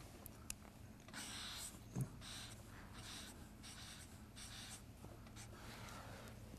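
A pen scratching out Arabic letters by hand on paper, a series of soft rhythmic strokes with brief pauses between them, quiet and close.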